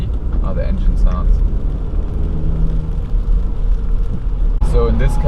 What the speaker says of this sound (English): I'm gonna press the pedal harder and you can see how the engine sounds